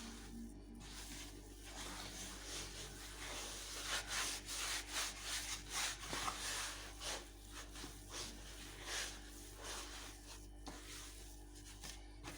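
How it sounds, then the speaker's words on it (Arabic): Fingers work sablé cookie dough by rubbing the crumbly mixture together without kneading, a faint, continuous gritty rustle with soft rhythmic swells, close and quiet. "كما تلاحظوا راني قاعده غير ندور في هذه الاصابع تاعي باه ما نعجنهاش"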